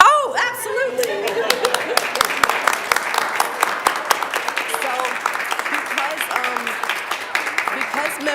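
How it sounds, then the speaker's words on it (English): A school board meeting audience breaks into steady applause, many hands clapping densely and fairly close throughout, with light chatter and chuckles mixed underneath. "Can we clap?"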